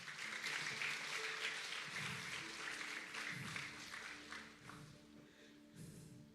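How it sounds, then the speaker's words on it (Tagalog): A church congregation applauding during a worship service, steady crowd clapping that swells and dips over a low sustained organ or keyboard tone, no talking. "sa mga palakpak para sa Diyos"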